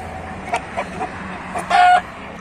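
Several short clucks from chickens come in separate bursts, with a louder, longer squawk near the end over a low background hum.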